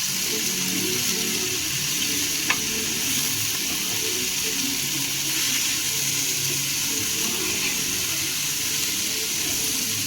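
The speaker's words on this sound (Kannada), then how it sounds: "ಈರುಳ್ಳಿ ಜೊತೆಗೆ ಚೆನ್ನಾಗಿ ಮಿಕ್ಸ್ ಮಾಡ್ಕೊಳ್ಳೋಣ." Drumstick leaves, lentils and chopped onion stirred together in a pan for a palya, giving a steady, soft sizzle with faint scraping throughout and one small clink, no voices.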